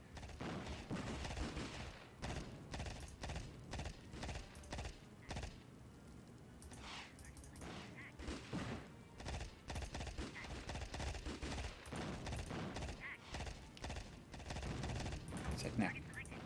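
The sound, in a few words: machine gun fire in Amiga video game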